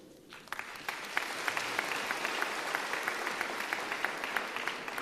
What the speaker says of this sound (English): This truly deserves a resounding round of applause.